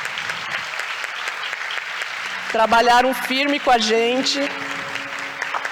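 Audience at an academic webinar event applauding the organizing committee, a steady wash of clapping throughout while someone speaks over it, his voice rising loudly in the middle.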